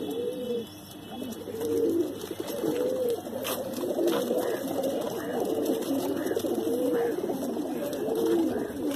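Mangalagiri pigeons coo repeatedly and close by, with soft, rolling calls recurring in an uneven rhythm over a steady background hum.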